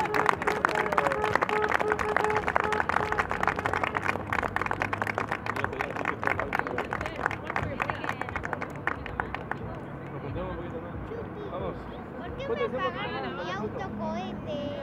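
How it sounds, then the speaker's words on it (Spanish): A crowd at a volunteer firefighters' emergency drill claps for police personnel, a dense round of applause that fades after about ten seconds, with talk and scattered crowd voices continuing afterward. "Vamos a dar un aplauso al personal policial."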